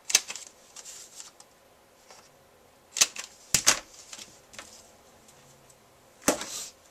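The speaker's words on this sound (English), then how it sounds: "Using the smaller corner rounder on my corner chomper, so it's a quarter inch round." A handheld corner rounder punch trimming quarter-inch rounded corners on paper cards: several sharp, crisp clicking chomps spaced irregularly, with faint handling rustles between them in a quiet room.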